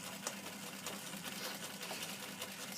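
A sewing machine stitches steadily around a neck facing, reversing at the start and following its curve, with a continuous, even mechanical whir at close range and no voices.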